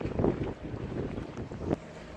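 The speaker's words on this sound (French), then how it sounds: "il y a du vent" Wind buffets across a sailboat under sail, gusty rumbling microphone noise with soft swells and a couple of louder bursts, fairly quiet and without speech.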